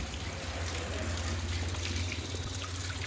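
Tap water runs steadily under a faucet while fish are washed, a continuous close gushing splash with a low rumbling undertone and no pauses.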